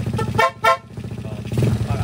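A horn honks in short bursts over a steady stripped-down skeleton motorcycle engine rumble, close by, with a voice speaking in the background.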